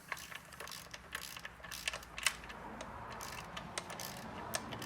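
A hand ratchet tightens a bolt while a Corvette C3 body is mounted on its frame, giving quiet, close, irregular clicking bursts over faint background noise.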